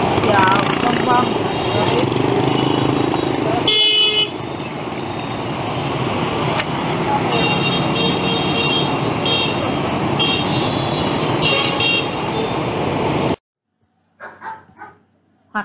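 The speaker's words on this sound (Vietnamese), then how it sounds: "Tiếng ồn có thể phát ra từ tiếng động cơ ô tô, xe máy, chợ, vân vân." Busy road traffic with car and motorbike engines and horns, a loud continuous roar with toots and dog-like barks mixed in, cutting off abruptly near the end.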